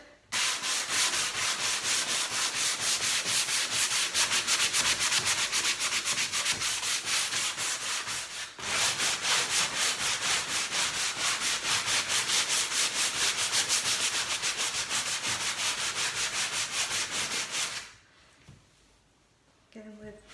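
Steady, continuous rasping of sandpaper rubbed back and forth on wood, close by, with a brief pause midway and a stop near the end.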